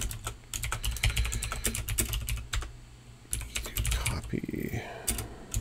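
Rapid typing on a computer keyboard: dense, irregular clusters of close, crisp key clicks with short pauses between bursts, while someone speaks briefly.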